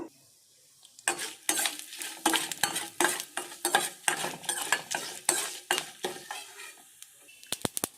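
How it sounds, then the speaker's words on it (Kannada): Dry red chillies tempering in hot oil for a traditional raw banana dish, with rhythmic spoon scrapes and stirring clatter against a metal pan over a light sizzle, close and steady, ending in quick taps. "ಒಗ್ಗರಣೆ ಚಟಪಟ ಅಂತ ಇದೆ"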